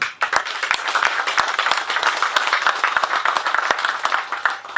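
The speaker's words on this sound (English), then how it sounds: "So give him a round of applause" Applause at a carp angling championship prize giving, a small crowd clapping steadily with several sharp individual claps standing out close by, lively and continuous for the whole stretch.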